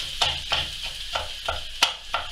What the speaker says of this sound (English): So just get my onions going a bit.